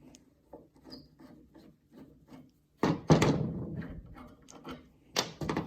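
Flathead screws being worked out of an older wooden dresser base: soft scraping and rubbing turns, then louder grinding rasps and thunks of the screwdriver against wood, close up with no talk.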